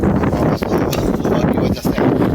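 Strong wind roars and buffets the microphone continuously, a dense low rumble with gusty bursts throughout.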